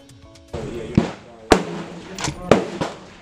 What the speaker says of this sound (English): here's us shooting